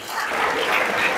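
A short, dense wash of audience applause at a business conference on spirituality, continuous and fairly loud throughout the brief moment.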